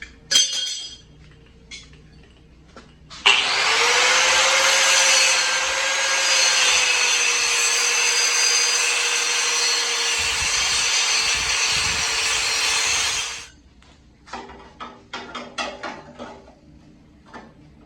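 A power cutting tool bites into a metal car patch panel for about ten seconds, a loud steady high whine with grinding hiss, framed by quieter clinks and handling noises before and after.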